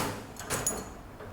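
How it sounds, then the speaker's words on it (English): A cat trap's door is closed and latched, giving a few soft metallic clicks and a brief clatter close by in a quiet setting. "Then you can lock your door."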